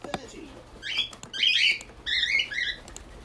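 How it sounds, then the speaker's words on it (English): Pet birds playing and chasing each other indoors, giving bursts of bright chirps and squeaky calls over light fluttering patter, fairly close, with short pauses between the bursts. "you can see my birds are playing chase me"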